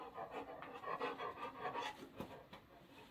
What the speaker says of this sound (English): So she's very excited and panting hard.